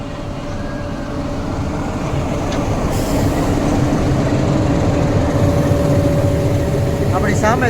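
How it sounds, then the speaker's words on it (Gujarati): An Amreli–Junagadh meter gauge passenger train rumbles and idles steadily nearby, a continuous low mechanical drone with a thin tonal whine, under a person talking. "Amreli Junagadh passenger train Amreli Junagadh metre gauge"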